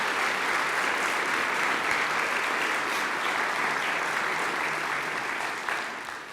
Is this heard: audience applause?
yes